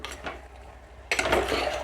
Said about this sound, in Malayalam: ഇനി ഇതൊന്ന് നന്നായിട്ട് ഇളക്കി കൊടുക്കാം